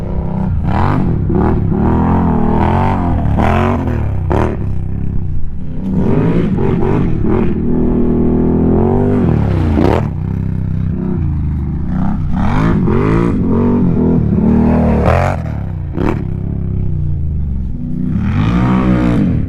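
A loud off-road ATV engine revs and roars up close in repeated surges and drops during a drag race, harsh and clattery with no talking over it.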